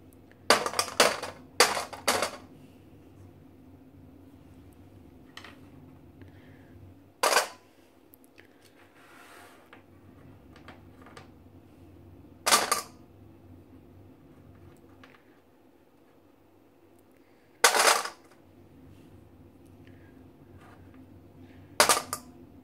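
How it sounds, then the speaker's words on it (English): White chocolate pieces are dropped onto a kitchen scale while 75 grams are measured for Christmas pudding muffins. Short, sharp clattering bursts come in small clusters, separated by long quiet gaps. "we're just going to measure out 75 grams of white chocolate"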